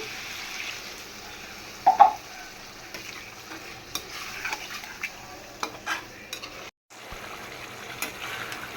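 Spiced beef cooks in a pan as water goes in, bringing a soft sizzle with stirring and scraping and a few brief clinks of utensil against pan.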